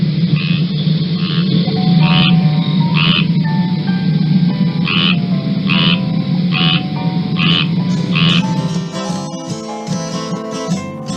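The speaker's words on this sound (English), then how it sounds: "All males make a croaking noise to attract females, and some females also do it to attract males." Frogs croak loudly and close up in repeated pulsing calls, a male mating chorus recorded in a Caribbean-style Florida preserve habitat, with layered overlapping voices and no talking.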